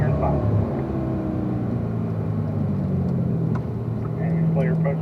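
A car engine on a race track, accelerating hard out of a turn, drones steadily close up with a rising rumble that holds level throughout, under an instructor's coaching voice.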